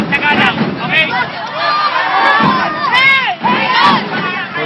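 A dense arena crowd at a UAAP volleyball finals roars and cheers continuously, with loud chanting, shouting and high whistles filling the space without a break.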